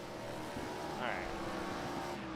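Race car engine in the iRacing game during a warm-up session at Richmond, a steady droning roar with one brief rising sweep as a car passes, while a commentator talks over it.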